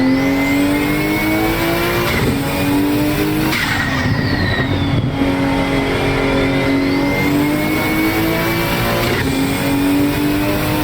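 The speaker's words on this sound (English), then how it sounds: "Car sounds amazing." A race car engine roars steadily at high revs, shifting pitch through gear changes, with tire noise, loud and continuous throughout.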